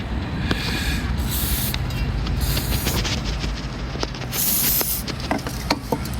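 WD-40 aerosol sprayed onto a bilge pump part: several short, close hissing bursts, each lasting about half a second, spread over a few seconds with steady background noise between them.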